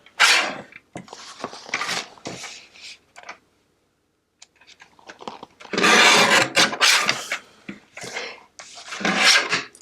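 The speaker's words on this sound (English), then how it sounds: "I'm going to trim it right up to the top of their ears." Paper valentine card being trimmed with scissors, close-up bursts of snipping and rubbing paper in irregular runs with a short pause midway, no talk.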